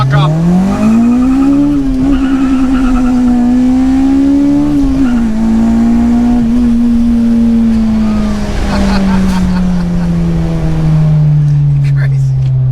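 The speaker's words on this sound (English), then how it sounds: "Those downshifts are crisp." An Acura RSX engine drones loudly and continuously from inside the moving car, its pitch climbing in short rises and then slowly easing down as the car pulls and shifts.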